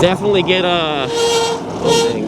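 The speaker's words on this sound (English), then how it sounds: "these brakes are loud." Brakes on a Ride1up Revv1 DRT dual-battery e-bike squeal loudly, a shrill, wavering tonal whine at the start, followed by someone speaking close to the microphone with another brief squeal behind him.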